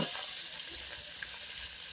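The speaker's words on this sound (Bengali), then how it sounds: "বেশি ভাজবো না হালকা করে ভেজে নেব" Fish pieces fry lightly in a pan of oil for a village-style fish curry, giving a steady, close sizzle with a soft crackle throughout and no voices.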